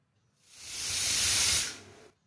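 A pressure cooker on a gas stove, cooking jackfruit curry, vents steam in one loud, sustained hiss. It rises over about half a second, holds steady, then cuts off.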